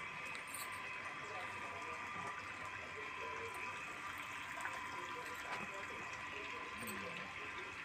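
Irrigation water flows and gurgles steadily into a freshly sown okra field, a faint continuous wash heard from nearby, with someone talking over it.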